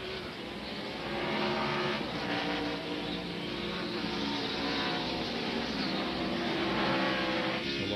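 A NASCAR stock car at the 1999 Save Mart/Kragen 350 road course revs up again after a spin in turn 11, with a loud, continuous engine roar and other race cars filling the track.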